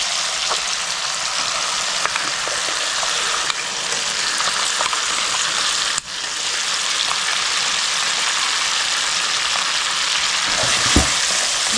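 A paste of mustard, poppy seed and green chili sizzles loudly in a pan over melted tomato for a fish curry. The frying hiss is steady and close, broken by stirring, with a brief dip midway.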